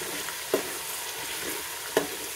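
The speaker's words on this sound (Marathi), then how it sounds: "त्याला भाजून घेते आत." Village garam masala fries in oil for a fish curry, making a continuous close sizzle with two soft knocking stir strokes a second and a half apart.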